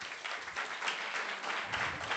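Seated listeners at a kanthari TALKS event give a round of applause, a dense, even patter of many hands that continues unbroken for the whole stretch, moderately loud and with no voices over it.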